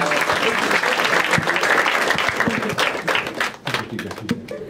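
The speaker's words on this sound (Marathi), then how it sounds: "एकदा टाळ्या वाजवा दोघांसाठी" The audience at a Marathi stand-up comedy show applauds two fellow audience members: a loud burst of close crowd clapping that thins into scattered claps toward the end.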